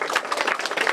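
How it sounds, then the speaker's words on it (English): Applause from an audience at an art exhibition opening reception, a dense steady patter of many hands clapping together at close range with no voices. "a great big round of applause for it"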